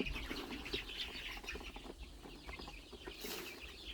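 Young Phu Phan black chicks, seven days old, crowd and jostle over chick feed on a farm, giving faint, busy peeping and scuffling with occasional wing flutters, steady throughout.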